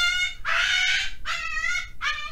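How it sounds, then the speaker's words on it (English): A dog howls in three long, wavering, high-pitched cries with short breaks between them, loud and fairly near, with no talk over them. "We got a dog howling."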